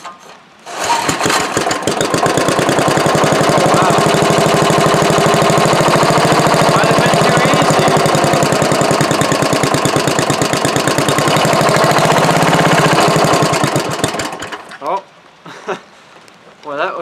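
A Craftsman DYT4000 hydrostatic lawn tractor engine catches and idles with a loud, steady chugging rumble for about thirteen seconds, then shuts off into quiet.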